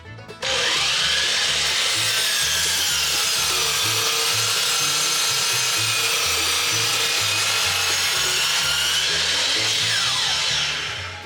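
A hand saw cutting rough lengths of wood, a close, loud, continuous rasping stroke that carries on steadily for about ten seconds before tapering off.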